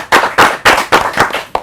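An audience claps for four performers in uneven, sharp bursts, roughly six close, loud claps or clap clusters in under two seconds.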